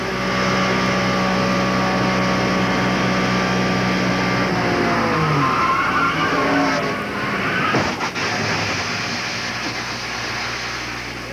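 A loud, steady race car engine roar heard from inside the car at Talladega Superspeedway in 1992, with a shifting pitch and a sudden sharp drop in the middle, as if the engine locked up, before the drone resumes.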